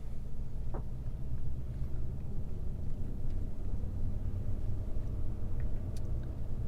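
2017 Ford Mustang GT California Special V8 driving on the road, a steady low engine rumble and road drone heard from inside the car, continuous and fairly loud with no talk.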